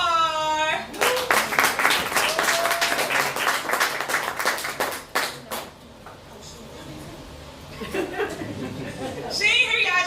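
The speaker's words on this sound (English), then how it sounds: "Please give a warm round of applause to Star." Audience at a poetry night applauding a poet, a burst of loud clapping with some laughter that tapers off after several seconds, followed by quieter murmuring and talk.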